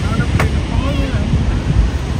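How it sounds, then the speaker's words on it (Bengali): Surf and wind at Chilika Lake, a steady broadband wash of breaking waves with strong wind buffeting the microphone throughout, loud and continuous, with no speech. "ওরে কি ঢেউ, বাপরে"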